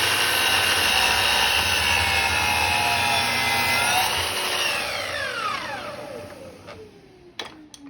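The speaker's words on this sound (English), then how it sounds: "Now we're going to cut a miter, or a bevel, at 45 degrees." A power saw cuts a 45-degree miter through a 12-inch piece of wood baseboard trim, a loud steady whine for several seconds that spins down as the blade coasts to a stop, followed by a few sharp knocks.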